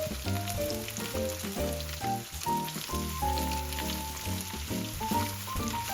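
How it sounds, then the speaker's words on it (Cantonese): Shiitake mushrooms and fried tofu stir-fry in a hot wok, giving a steady close sizzle that runs under a melodic background tune. "我哋繼續慢慢將啲冬菇同埋炸豆腐炒香。"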